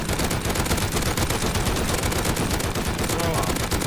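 Dense, continuous automatic gunfire in the survival game Rust during a fortress fight, loud and close with rapid overlapping shots throughout.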